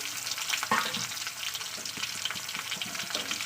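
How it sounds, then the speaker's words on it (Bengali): Eggplant and potato pieces fry in hot oil, giving a steady, dense crackling sizzle with small pops throughout, close up and with no voices. "বেগুনটাকে আমি ভালো করে আবার তেলের সঙ্গে ভাজা করব"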